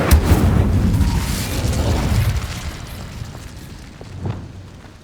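Fiery Incendio spell burst in Hogwarts Legacy, a loud low boom swelling at the start, rumbling for about two seconds and fading, followed by a smaller thud near the end.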